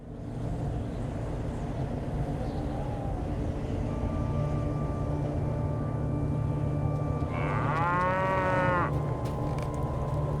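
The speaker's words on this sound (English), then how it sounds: "The cow looks pleased to be among farmers again" A cow in Lord of the Rings Online gives one clear, rising moo near the end, over a steady layer of ambient game noise.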